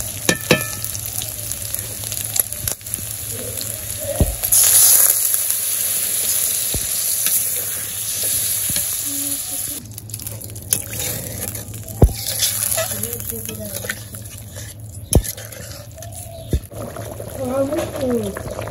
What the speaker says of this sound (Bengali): আমার কষানো হয়ে গেছে, জল দিয়ে দিলাম।